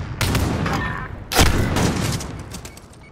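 Two loud gunshots from the shooter Call of Duty, the second heavier and booming, each ringing out with a long echoing tail and a few faint shots trailing behind, with no talking.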